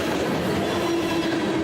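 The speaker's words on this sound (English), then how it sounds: "After the CSX train got by" A CSX freight train rolls past close by, a steady loud rumble of wheels on rail with a faint sustained squeal running through it.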